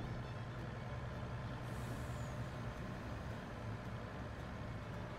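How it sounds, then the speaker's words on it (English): Fire truck in Farming Simulator 22, a steady loud engine rumble with a brief air-brake hiss, constant and unbroken with no talk over it. "This is the fire truck."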